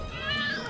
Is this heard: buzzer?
no